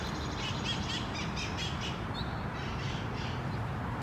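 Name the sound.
parrots calling in city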